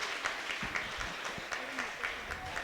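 Applause from school students in classes 6 to 8 at a Ramayana quiz, a few seconds of moderate scattered clapping with crowd murmur, heard at a slight distance.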